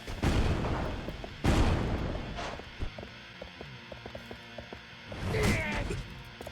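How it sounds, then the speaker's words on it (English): Flash grenades bursting in the Yakuza 3 video game: several loud, sharp blasts with whooshing tails, the first two heavy and close together, a fainter stretch of clicks and thuds between, then another burst near the end. "Oh, the motherfucker's got, like, flash grenades or something."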